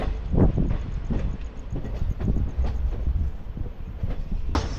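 A train departs Shoranur Junction in Kerala and begins rolling, with low rumbling, intermittent clanks and creaks from the cars, plus some wind buffeting the microphone.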